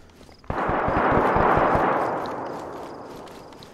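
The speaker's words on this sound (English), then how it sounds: "There's like three or four different people shooting," Several guns firing at a distance in the DayZ game on the Rostow map, out in the woods: a burst of rapid shots that overlap, then a long rumbling echo that fades, with no talk over it.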